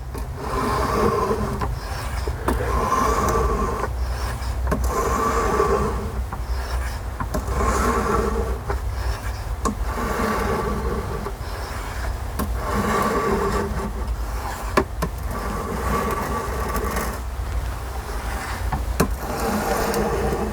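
CPM 3V steel knife blade drawn in edge-trailing strokes across an EdgePro Apex sharpening stone, a steady repeating rasp of stroke after stroke, close and moderately loud, with a low hum underneath.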